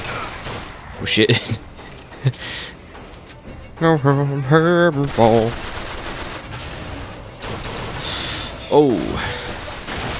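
Rapid turret gunfire and rocket blasts from combat in the video game Bioshock Infinite, loud bursts in clusters with a voice exclaiming over the action.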